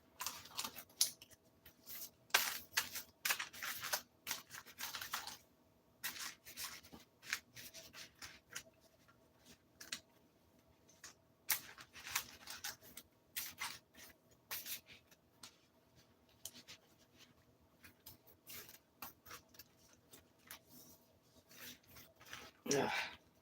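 Double-sleeved Magic: The Gathering cards are shuffled in repeated riffling bursts of rubbing and flicking, close and fairly quiet, with pauses between the rounds.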